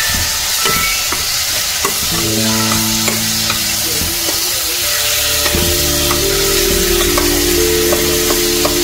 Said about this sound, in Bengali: মশলা দেওয়া হয়ে গেছে, টমেটোও দেওয়া হয়ে গেছে, এখন এটাকে কষিয়ে নেব।